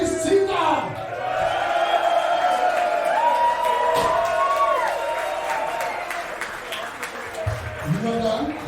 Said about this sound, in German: Bitte nochmal einen großen Applaus. Chris Zitter!